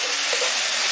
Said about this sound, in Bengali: পেঁয়াজটাকে হালকা একটু ভেজে নিয়েছি